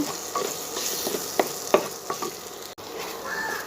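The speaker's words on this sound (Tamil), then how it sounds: "உடனே கிளறலைன்னா அடி பிடிச்சிக்கோங்க. டக்குன்னு கிளறிடலாங்க." A spoon scrapes and stirs a thick coconut masala paste for vegetable salna in a hot pan, soft sizzling underneath and a few distinct scraping strokes, close and fairly quiet.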